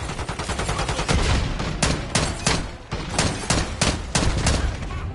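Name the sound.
gunfire in a shooter video game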